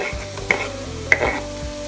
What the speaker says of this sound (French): Je mets du beurre dans une casserole, enfin une cocotte. J'y mets un oignon rouge.